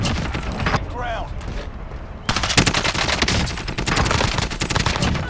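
An RPD light machine gun fitted with a 150-round drum fires in Call of Duty Warzone, long rapid bursts of close, loud gunfire broken by a short pause, with a player talking over parts of it.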